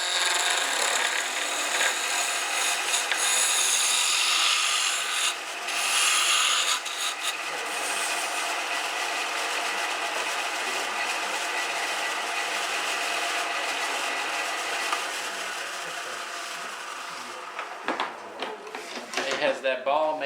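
A wood turning tool cuts a Christmas ornament spinning on a lathe, a steady close hissing scrape that runs almost without a break and eases off near the end.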